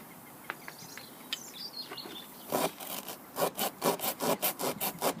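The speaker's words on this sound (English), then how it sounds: "give it a rasp out," A rasp tool reaming a puncture hole in an off-road tyre, first a few scattered scrapes, then a run of quick, rhythmic rasping strokes, close and fairly loud.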